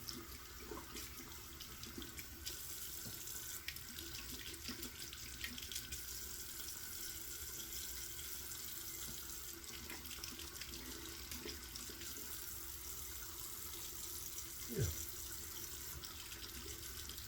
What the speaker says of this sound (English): Get this razor rinsed out and see how we did.